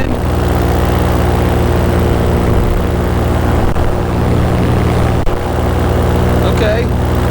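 A powered paraglider engine runs at full throttle in crosswind flight, a loud steady propeller drone with strong low harmonics that fills the whole clip without letup, apart from a couple of brief ticks.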